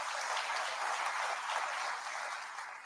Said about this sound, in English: And the big applause to all of you.